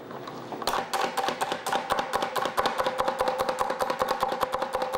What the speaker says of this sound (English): So why don't you chop right in the base?